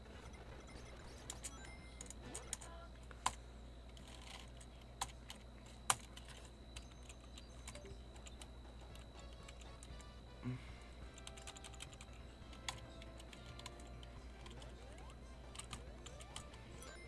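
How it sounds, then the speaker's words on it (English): Quiet, intermittent tapping on a computer keyboard used to play an emulated Sonic game, scattered keystrokes over a faint hum with no talking. "So I'm playing this on a keyboard."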